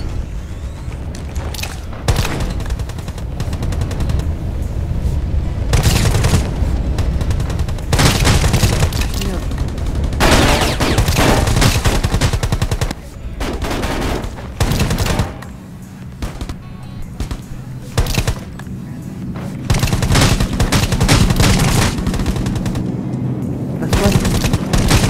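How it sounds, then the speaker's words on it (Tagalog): Heavy gunfire in a Rules of Survival battle-royale match at Bitter Lake: loud rapid bursts of automatic fire and booming shots in dense clusters, with short pauses between volleys and a voice talking over parts of it. "Grabe yung putukan!"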